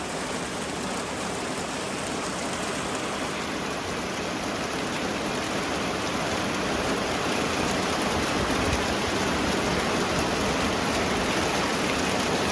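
Steady rain falls heavily and continuously outdoors, a dense even hiss of drops on surfaces that grows slightly louder toward the end, with no talking.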